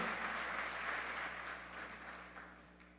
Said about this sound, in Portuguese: aplauda Ele mais uma vez